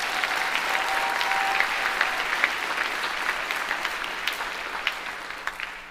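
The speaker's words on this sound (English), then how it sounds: "let's give him a round of applause as well" University audience at a state-of-the-university address gives a round of applause, a steady crowd clapping at moderate level that gradually thins toward the end, with a few distinct claps near the close.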